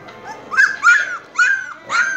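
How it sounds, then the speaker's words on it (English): Several young puppies whimper and yip in a row of short, high, whiny cries, close and fairly loud, with small pauses between them. "look at the loving puppies coming to me"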